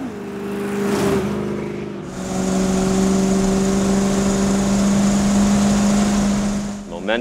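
A race-built Chrysler New Yorker rally car with a 354 Hemi engine idles and revs with a steady, loud mid-pitched drone, holding a sustained tone for several seconds before a brief blip at the end.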